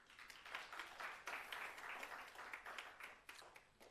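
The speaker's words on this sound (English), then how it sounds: "Can we please give them another applause?" Applause from a seminar audience thanking the presenters, a steady wash of many clapping hands that stays fairly faint and distant throughout.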